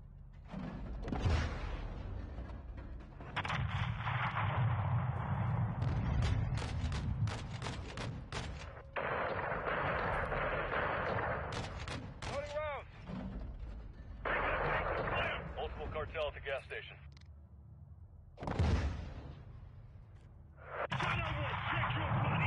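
AC-130 gunship cannon fire in the video game Modern Warfare 2, heavy booming shots and thuds interspersed with radio-style voices talking over the action, loud and close.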